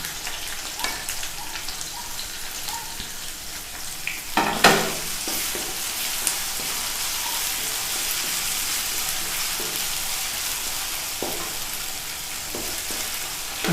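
Ginger and garlic frying in a pan for an Assamese jackfruit seed curry, a steady close sizzle with intermittent stirring scrapes and a sharp clatter near the middle.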